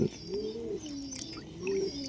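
Pigeons cooing close by in a loft with pigeons kept as pets, soft rolling coos repeating in two clear phrases with faint chirps above.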